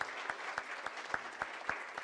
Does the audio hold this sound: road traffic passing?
no